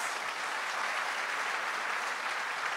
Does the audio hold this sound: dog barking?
no